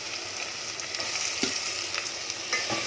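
Onions frying in hot oil with curry leaves sizzle steadily, with a few soft stirring scrapes over the continuous crackle.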